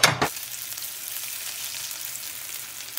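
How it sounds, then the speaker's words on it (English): Steady crackling sizzle of rolled tacos dorados frying in hot oil, close and continuous after a brief louder clatter at the start. "So what I'm doing now is I'm just frying the tacos already."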